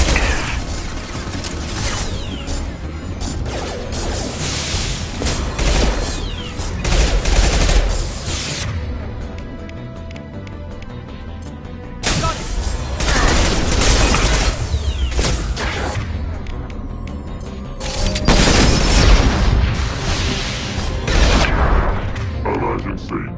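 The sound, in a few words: heavy gunfire in Mass Effect video game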